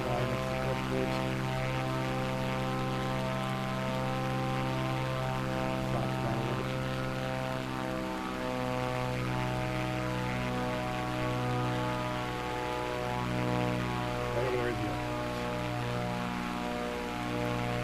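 Airplane engine in Microsoft Flight Simulator 2024 during an approach and landing at an airport, a steady droning hum with layered tonal harmonics running continuously and fairly quietly throughout.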